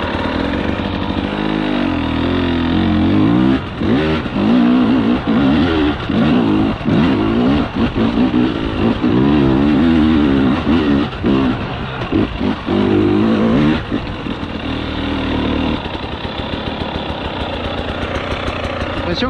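A Husqvarna 300 TEi two-stroke motorcycle with a remapped ECU runs and revs hard on a slope, its engine loud and close, rising and falling through repeated throttle blips over about twenty seconds.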